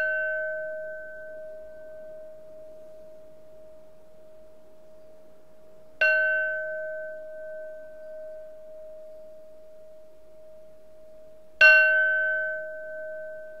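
Large resonant bells struck twice for a cleansing ritual, each strike a bright metallic clang that decays into a long sustained pure ringing hum, with the second strike slightly louder.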